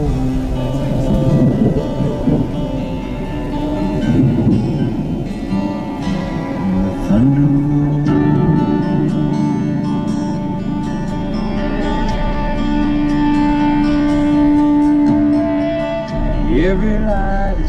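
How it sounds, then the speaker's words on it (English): Deep thunder rumbles through a summer storm, rolling low and loud beneath music played over an expensive car audio system, with a swell and fade near the end. "Thunder rolls."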